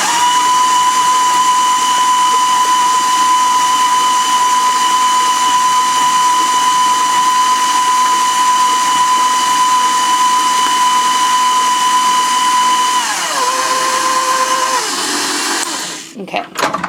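An electric mixer beats banana bread batter with a loud, steady motor whine. Near the end the pitch drops briefly, then the motor cuts off with a short clatter.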